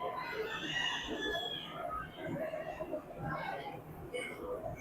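Old English game chickens cluck and crow in a busy poultry area at the Missouri State Fair, with a person talking over the birds throughout.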